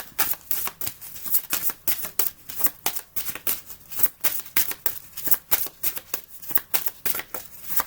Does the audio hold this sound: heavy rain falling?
no